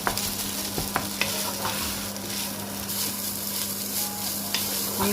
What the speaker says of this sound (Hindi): लहसुन में हम इसको पका रहे हैं, इससे इसकी स्मेल अच्छी होगी, चिकन में फ्लेवर अच्छा आएगा।